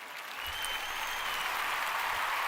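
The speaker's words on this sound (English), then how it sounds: "Another round of applause again." An audience claps during a livestream, a steady, dense round of applause that builds slightly and holds, with no voices heard over it.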